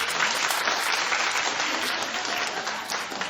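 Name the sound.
studio audience clapping in a poll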